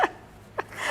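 Two quick, faint sneeze-like bursts about half a second apart, close to the microphone in a quiet indoor setting.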